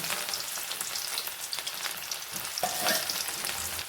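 Mustard seeds and onion frying in coconut oil in a pan, with a steady, close, broadband sizzle and scattered crackling pops throughout, plus a brief stirring scrape near the end; no voices.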